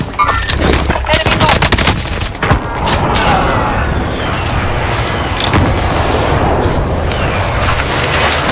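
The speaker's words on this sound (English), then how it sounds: "Friendly precision airstrike inbound." Precision airstrike explosions in Call of Duty Warzone, set in Verdansk Resurgence, arrive as loud, close bursts and booming blasts. Rapid cracks pile up early, then a long, dense rumble of detonations rolls on, with brief game voice lines in the mix.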